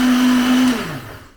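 A kitchen blender runs loud and close with a steady high-pitched motor whine, then winds down as the motor slows and fades out near the end.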